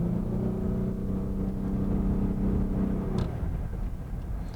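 A Lexus GS450h hybrid with a CVT drives along, giving a smooth, steady engine hum and road rumble that ease off near the end, heard from inside the car.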